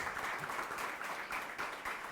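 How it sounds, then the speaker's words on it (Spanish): A conference audience at Startups Latam Week in Bogotá applauds a WeWork sales head after her talk, a faint, fairly distant patter of clapping hands in short swelling waves with no speech over it. "un aplauso para ella"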